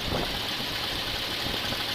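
Engine of a 1989 GMC 3500 truck with a treated head gasket leak, idling steadily with a dense, even rumble and hiss close by.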